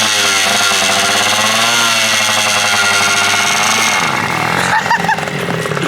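JR80 pitbike engine running loud and steady at high revs, buzzing continuously, then dropping and stuttering near the end as the throttle changes.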